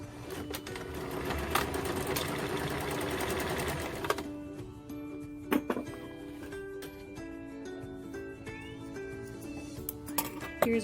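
A sewing machine runs steadily for about four seconds as it sews down the end of a braided rug. Quieter clicks and handling noises follow, with a few short taps near the end.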